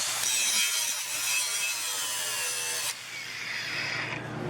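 A 6-inch cordless angle grinder cuts under heavy load with a loud, continuous, harsh grinding roar. Its tone drops and eases slightly about two-thirds of the way through as the motor bogs.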